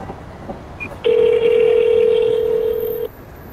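A steady electronic telephone tone holds for about two seconds after a short blip as a call is transferred, clear and close, with a faint hiss around it.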